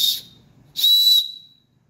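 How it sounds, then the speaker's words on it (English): Small survival whistle on a PSKOOK paracord bracelet, blown twice: a short sharp blast then a longer shrill one, loud and close, with no talking. "So you get a whistle, and it is actually really loud."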